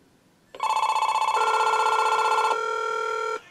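A Panasonic 900 MHz cordless phone in a bedroom rings with a bright electronic warble, one sustained ring burst of about three seconds that shifts pitch partway through, loud and close against a quiet room.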